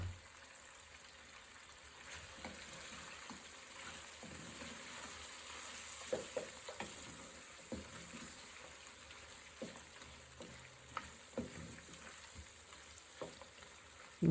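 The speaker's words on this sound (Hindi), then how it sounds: "3 से 4 मिनट इसे भून लेंगे" Mutton karahi with black pepper and green chillies fries in a pan, a steady, fairly soft sizzle running throughout, with occasional light stirring clicks.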